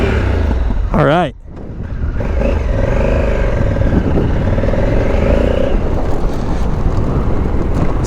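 A 2020 Honda Africa Twin motorcycle is ridden, its engine droning steadily and rising in pitch under strong wind rush, with a short voice near the start.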